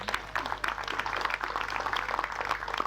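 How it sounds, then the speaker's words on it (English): Audience at a charity walk event gives a steady round of applause, continuous dense clapping of moderate loudness sustained throughout. "From all of us, a round of applause to them."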